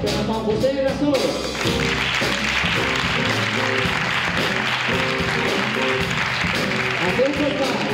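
Audience clapping at a Christmas concert by a municipal jazz band, a steady wash of applause that stays loud throughout, with a band playing and an announcer's voice carrying over it.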